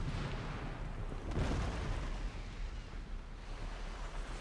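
Naval cannon fire during a sea battle in a video game, a dull, rumbling series of distant booms blending into a continuous low roar without speech.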